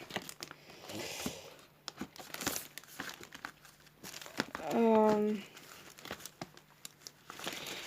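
A pad of vellum and scrapbooking paper from Action is handled close by, giving repeated crinkling and rustling with a brief louder crumple, while someone talks over it.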